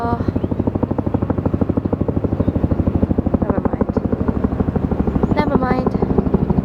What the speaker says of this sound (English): I can hear the helicopter and it's pretty loud.